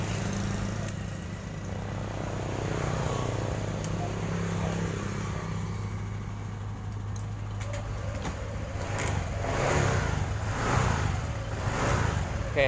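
A Honda Vario 150 scooter idling after being started, a steady low engine hum running the whole time, moderately close, with a slight rise in revs near the end and faint bird calls in the background.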